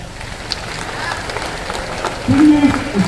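Audience applause at a pre-university college function in Harapanahalli, a dense patter of clapping mixed with a voice speaking over it at fairly close range.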